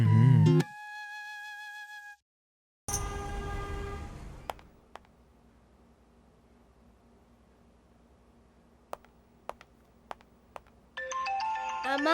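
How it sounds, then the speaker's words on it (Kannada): A mobile phone ringtone plays a bright melodic phrase, stops for a silent gap, then returns loud before dropping to a quiet room with scattered faint clicks, and the tune chimes again at the end. "ಅಮ್ಮ ಫೋನು."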